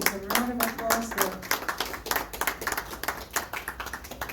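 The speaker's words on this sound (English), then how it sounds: "a round of applause there" An audience claps in a short, fairly light round of applause, the hand claps scattered and uneven, with a voice talking over the start.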